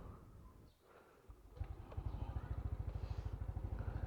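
A Yamaha Aerox 155 scooter engine warming up after a CVT cleaning, idling up close with a steady, fast, regular putter that grows louder after a brief quiet dip.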